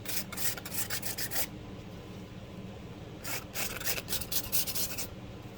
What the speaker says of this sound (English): Let's scrape some of this on here and pretend like it's gesso.